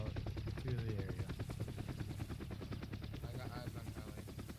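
Helicopter in the video game DayZ, with rapid rotor thumping and a steady engine drone close by, continuous throughout, while players talk over it.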